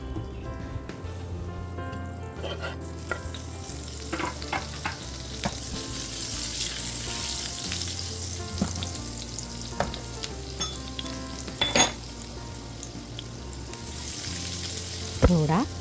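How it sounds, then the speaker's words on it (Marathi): Asafoetida, mustard seeds, chopped green chilli and crushed garlic sizzle and crackle steadily in hot oil, with occasional sharp pops and stirring scrapes throughout, fairly close and moderately loud. "तेल थोडं गरम झाल्यानंतर यामध्ये घालूया थोडं हिंग, राई, बारीक कापून ठेवलेली मिरची आणि ठेचलेला लसूण."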